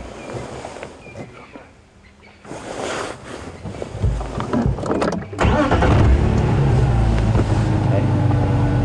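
A safari game-drive vehicle's engine starts and runs loudly at close range, a steady rumble building after a quieter stretch with faint sounds, as the vehicle moves on through the bush at sunrise.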